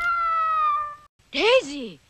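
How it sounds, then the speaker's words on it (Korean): An anime cat, yellow with black markings, lets out two meows: a long, steady, tonal mew, then after a short pause a second, wavering meow that bends up and down, close and clear with no other sound. "고양이 한 마리가 건물에 들어왔군요"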